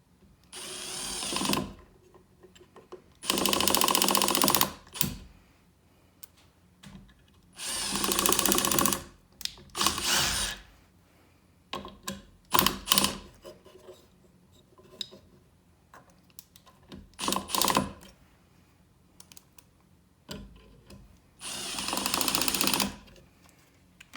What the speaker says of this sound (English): M18 Surge Impact, 1/4 inch driver